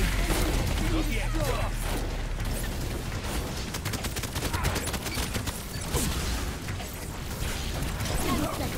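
Gunfire and clanking weapon mechanisms in the video game Paladins, rapid bursts layered with clattering and game effects throughout, under a talking voice.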